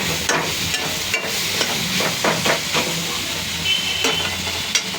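Water poured into a hot pan of curry made with myna bird meat raises a continuous sizzling, steaming hiss, with scattered taps and stirring clatter throughout.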